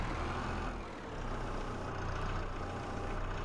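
A tractor engine runs steadily in the distance, a faint broadband rumble that holds constant with no talking.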